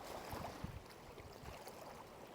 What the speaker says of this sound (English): The water.